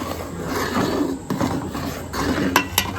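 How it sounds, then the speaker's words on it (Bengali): A spoon stirs thick payesh, a Bengali rice pudding, in a cooking pot, scraping and rubbing steadily against the bottom with a few sharp metallic clinks near the end, close and loud. "এইভাবে নাড়তে হবে, না তলায় বসে যাবে।"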